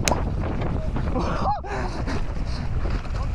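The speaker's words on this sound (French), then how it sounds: "Il y a un peu de vent." Wind buffeting a microphone at a bike park, a steady low rushing rumble throughout, with a brief whistling chirp partway through.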